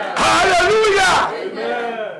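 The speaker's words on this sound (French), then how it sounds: "Acclamez pour Jésus." A church congregation shouts and cheers together in a loud burst of overlapping voices and cries, then the sound settles into a softer, ringing murmur.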